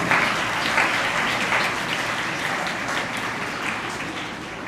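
Sustained audience applause fills a church youth festival gathering, a dense, steady wash of clapping from a large crowd that holds strong throughout and eases slightly toward the end.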